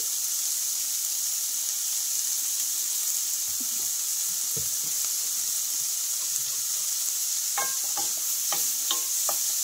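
Shrimp bhuna with ground mustard paste fries in mustard oil, giving a steady, close, bright sizzle while a utensil stirs and scrapes the pan in occasional clinks and clatters; nobody speaks.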